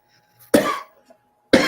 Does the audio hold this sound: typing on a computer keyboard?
no